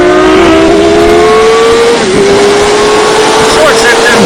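A 2011 Suzuki GSX-R 750 motorcycle accelerates hard with a loud, rising engine whine that dips briefly at an early shift before climbing again, while people talk and shout nearby.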